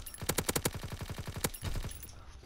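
Rapid bursts of long-range weapon fire in a video game, a quick string of close, punchy shots followed by a single louder report and a few trailing thuds, with no talking.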